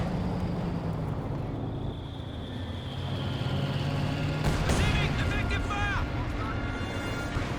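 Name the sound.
high explosive mortar barrage in Company of Heroes 2 video game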